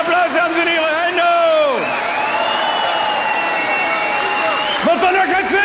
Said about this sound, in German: Gib ihm noch einen enormen Applaus